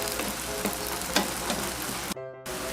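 Water in a cooking pot bubbles and hisses with a steady, crackling, sizzle-like texture, close and continuous, with a few sharper pops and a brief cutout near the end.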